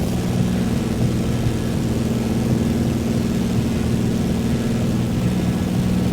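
Continuous propeller-plane engine noise in flight in Microsoft Flight Simulator 2024 on a rainy-day flight toward Nairobi, Kenya; a loud, even low drone throughout, with no voices.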